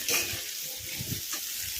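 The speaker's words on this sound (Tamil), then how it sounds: "நல்லா வதக்கணும்" Steady oily sizzling and crackling of ginger and coconut frying in a pan, with occasional stirring scrapes, close and continuous with no talking.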